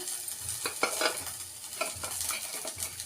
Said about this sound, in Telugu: చపాతీకి నేను ఎగ్ బుర్జీ చేసుకోవడానికి ఆనియన్ వేగింది కదా, కొత్తిమీర వేసుకుంటున్నాను